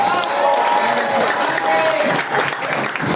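Loud, sustained applause from a large crowd at an event, steady clapping throughout with a brief cheer mixed in.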